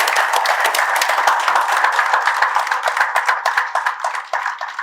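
An audience at a talk about a book claps together in a loud, dense burst of overlapping handclaps that thins slightly toward the end, with no voices over it.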